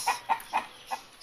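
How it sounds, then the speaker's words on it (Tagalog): Roosters kept as fighting cocks in a small backyard give four short clucks in a quick, evenly spaced series, close and clear with no talk. "Dito sa aking munting bakuran na pinag-aalagaan ng konting mga alagang manok, mga roaster chicken."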